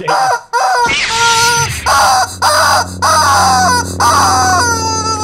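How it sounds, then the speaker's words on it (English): Chicken clucking and squawking in loud, close bursts, about five calls in a steady rhythm, over a constant electronic hum, with no talking. "he only clucks when the price of Bitcoin reaches an all-time high"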